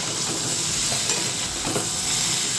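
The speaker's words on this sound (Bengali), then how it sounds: "এই যে জিরে বাটা তারপর হচ্ছে গিয়ে লঙ্কার গুঁড়ো ধনে গুঁড়ো আর হলুদ এগুলো দিয়ে কষিয়ে নিচ্ছি" Cumin paste with chili, coriander and turmeric powders frying in a pan, giving a steady, close, loud sizzle and hiss with no talking.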